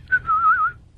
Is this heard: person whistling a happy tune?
yes